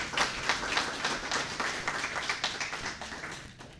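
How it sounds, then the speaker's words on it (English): Audience applause at the media launch of a robotics competition, a steady wash of many hands clapping at moderate level with no talk over it, tapering slightly toward the end. "You can give them a round of applause."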